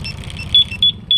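Yamaha NMAX V2 scooter with a keyless anti-theft system, its engine cranking briefly then dying, punctuated by three short high alarm beeps over a low idle rumble.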